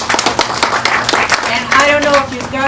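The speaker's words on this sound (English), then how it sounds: "another round of applause for the Bean." An audience at a historical society event celebrating the schooner Ernestina claps for a short burst, then the applause fades as a voice begins talking over it.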